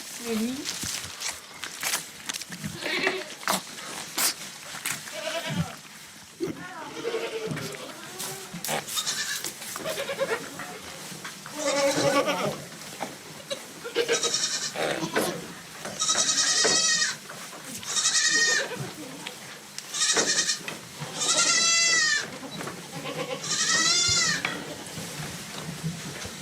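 Goats bleating in a farm setting, a long run of repeated loud, wavering calls coming in bursts from several animals, with people talking quietly in between and some shuffling movement.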